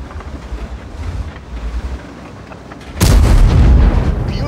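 A tank cannon fires in the World of Tanks video game: one sudden, loud, heavy boom with a lingering rumble that breaks a low windy background and fills the end of the clip.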